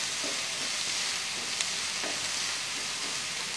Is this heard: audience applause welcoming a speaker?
no